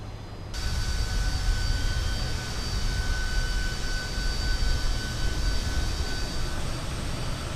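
A JustFlight Fokker F28 jet taxis in a flight simulator, producing a steady, loud jet engine roar with a constant high whine that holds throughout after a brief quieter start.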